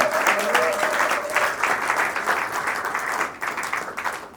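An audience at a film premiere applauds warmly, a continuous wash of clapping that swells and dips slightly, with a brief cheer-like tone early on.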